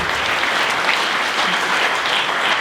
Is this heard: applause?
yes